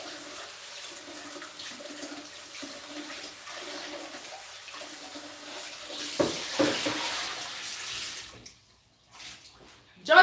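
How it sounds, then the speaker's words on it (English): An iron sponge rubs the sides of a cooking pot while water runs, a steady wet scraping and splashing wash that holds for several seconds before dropping to near silence, then briefly returns at the end. "I wash the sides of the pot. Just the sides of the pot, yeah?"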